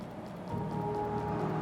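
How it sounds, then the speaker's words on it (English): Steady, dense rushing wind of a dust storm in the video game Eternal Edge, swelling slightly after a quiet start and holding at a constant roar, with a faint tonal hum underneath. "it does sound like a dust storm"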